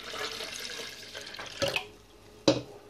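Juice pours into a blender jar in a home kitchen, a soft liquid splash that fades over a couple of seconds and ends in two quick sharper knocks or drips, faint and close.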